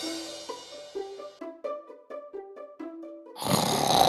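Cartoon-style snoring comes in a rhythmic series of tonal, pulsing notes, one breath after another, then gives way to a loud, harsh rushing burst at the end.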